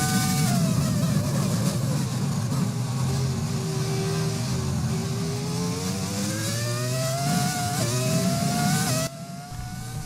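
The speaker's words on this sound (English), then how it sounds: "what a sound of the V10 Ferrari engine here at the home of Ferrari at Monza" A Ferrari V10 Formula 1 engine at Monza in an F1 video game screams continuously, high-pitched, pitch sweeping down and back up through gear changes, loud and close with no voices.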